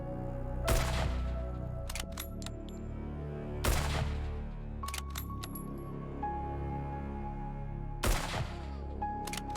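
Firearm shots in the zombie survival game HumanitZ, including a bolt-action sniper rifle, four sharp, widely spaced reports over a low game ambience, with small metallic clicks and ejecting-casing tinkles between them.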